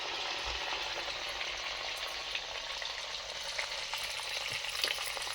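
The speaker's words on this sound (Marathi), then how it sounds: "भोकाचे वडे तळायचा कसा फुगून येईल बघा" Lentil vadas, ring-shaped fritters with a hole in the middle, fry in hot oil with a steady, dense sizzle and crackle that continues without a break. A few soft stirring bumps sound close by, and nobody speaks.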